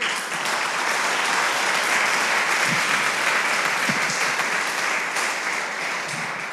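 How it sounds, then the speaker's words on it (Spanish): A congregation at a church worship service bursts into sustained applause, a dense, loud wash of many clapping hands that continues steadily throughout, with no talking. "Denle un aplauso al Señor"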